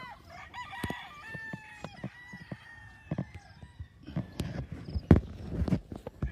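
Chickens and roosters on a large gamefowl breeding farm in Lipa City, Batangas, Philippines, with a rooster crowing at the start and scattered clucks, rustling and footsteps around, moderately distant and fairly quiet.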